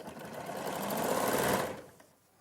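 A sewing machine runs a short burst of stitching through denim pieces, a close, steady whirring rattle for about a second and a half before stopping abruptly.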